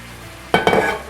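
Prawns frying in butter in a pan for biryani, a sudden loud sizzle bursts in after near-silence, followed by a second stirring scrape and continued crackling hiss, close up.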